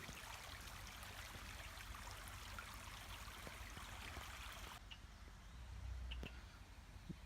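A small creek runs along a trail beside a gravel driveway, its steady broadband wash faint and continuous, with a few soft bird calls and a brief drop in the flow's hiss near the end.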